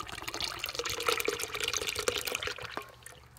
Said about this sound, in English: Just pour that in there.